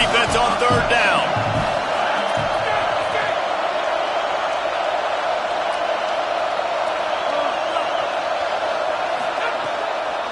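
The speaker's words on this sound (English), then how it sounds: "Decibels rising as the crowd gets behind this defense on 3rd down." A football stadium crowd roars louder on third down, a dense sustained wall of noise with a few sharp thuds early on, and no clear talk over it.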